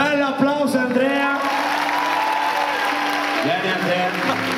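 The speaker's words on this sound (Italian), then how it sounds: "Bello applauso, Andrea." A live-show crowd applauds and cheers for Andrea, with voices and a sung or spoken tone running over the clapping throughout.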